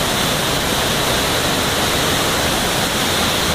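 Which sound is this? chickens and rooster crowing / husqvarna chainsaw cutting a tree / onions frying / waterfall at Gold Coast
waterfall at Gold Coast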